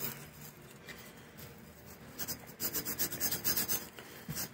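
A small toothbrush-sized wire brush scrubs inside the aftercooler of a Cummins Marine QSB 6.7 diesel, a close, dry rasping rub that starts soft and grows into louder rhythmic strokes toward the end.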